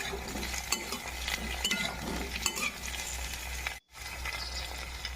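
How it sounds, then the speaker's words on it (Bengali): Vegetables for dalia khichdi sizzle and crackle in a hot kadai while a utensil stirs and scrapes, with one brief cut-out near the end. "দিয়ে ভালো করে ভেজে নেব"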